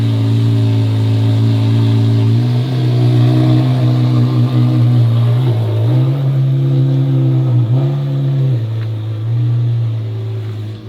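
A Lamborghini Aventador SV engine revs loudly nearby, its deep roar rising and falling through several throttle blips before settling back toward idle.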